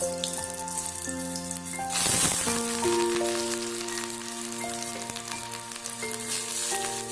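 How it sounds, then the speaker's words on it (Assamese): Onions go into hot oil for dum aloo, giving a steady close sizzle and crackle that swells briefly as they hit the pan, with soft music playing underneath throughout. "এয়া চাওক, তেলখিনি গৰম হৈছে, পিঁয়াজ দিছোঁ।"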